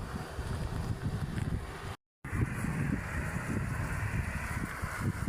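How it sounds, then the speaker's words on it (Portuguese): Steady outdoor wind beside a cemetery, a continuous rumbling gust buffeting the microphone with a low roar, broken once by a brief dropout, no voices. "Deus fazendo um pouco de vento"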